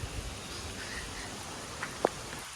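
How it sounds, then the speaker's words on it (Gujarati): Rain falls in a steady soft hiss, fairly quiet and close, with a couple of brief sharper drops or splashes standing out near the end. "ફૂલ વરસાદ પડે"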